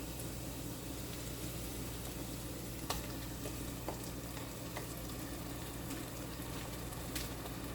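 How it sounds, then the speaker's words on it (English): Diced tomatoes sizzle steadily in a hot pan, a constant close frying hiss broken by a few small pops and clicks, with no voices. "first I'm gonna add some diced tomatoes"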